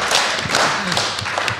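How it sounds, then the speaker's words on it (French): Audience clapping for Johnny at a live podcast event, PodRennes 2023, a steady patter of hands at moderate volume with a few louder claps and no talking. "On applaudit Johnny."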